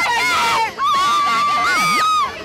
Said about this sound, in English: He's got a little gaggle in the front row, scream every time he drops in.